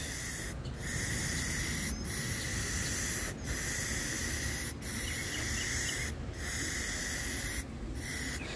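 Rust-Oleum filler primer spraying from an aerosol paint can onto a car: a steady, close, loud hiss held for long stretches, broken by brief gaps where the nozzle stops and restarts.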